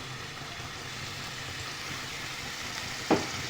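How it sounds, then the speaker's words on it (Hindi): About a cup of full cream hits sugar already melted in a hot pan, giving a steady close hiss of frying that runs throughout, with a short sharp clink of a utensil near the end. "अब इसके अंदर हम 1 कप के करीब जो है फुल क्रीम जो होता है वो ऐड कर देंगे"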